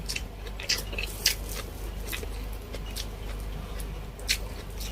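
Close-up chewing and biting while eating native chicken adobo and crispy lumpia, with a steady run of crunchy, moist bites and a few sharper crunches, loud and near, with no talking.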